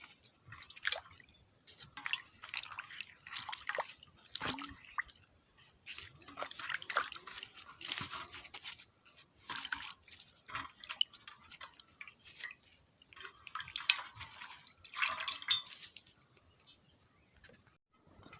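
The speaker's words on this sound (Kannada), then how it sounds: "ಸೊಪ್ಪನ್ನೆಲ್ಲ ಚೆನ್ನಾಗಿ ನೀರಲ್ಲಿ ತೊಳೆದು ತಗೊಂಡಿದ್ದೇನೆ." Leafy greens are washed by hand in a vessel of water, giving irregular close splashes, sloshes and drips in uneven bursts, with no talking.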